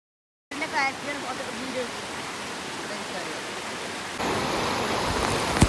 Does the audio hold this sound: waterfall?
yes